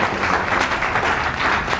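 An audience at a spiritual lecture breaks into a short, even round of clapping that lasts about two seconds.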